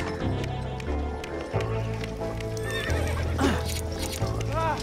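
A horse whinnies loudly twice over steady background music in The LEGO Movie Videogame, its neighs rising and falling in pitch.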